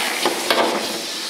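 Water runs continuously during a papillon grooming demonstration, a close, loud, hissing splash with a couple of brief surges, and no voices.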